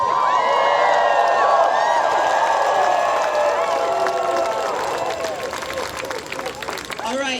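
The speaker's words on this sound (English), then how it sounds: "We'll cheer for you." Crowd noise at a grad student union strike rally on a university campus, a steady, loud mass of voices and cheering carried throughout, with shouts and whistle-like calls rising over the din.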